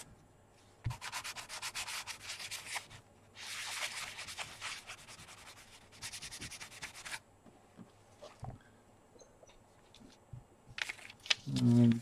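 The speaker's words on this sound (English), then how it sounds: "I sand it off. Maybe I should do a little more. Just make sure it has no wax on it." Sandpaper rubs wax off a stone carving seal in repeated bursts of scratchy friction, close and fairly loud, broken by short pauses with small handling knocks.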